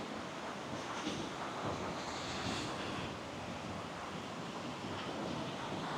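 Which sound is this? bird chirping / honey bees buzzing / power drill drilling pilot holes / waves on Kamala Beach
waves on Kamala Beach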